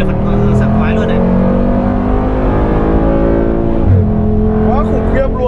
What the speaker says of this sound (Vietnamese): Wow, tiếng bô các bạn ạ, ôi hẳn bên trong tiếng bô cực kỳ là phấn sảng khoái luôn đấy.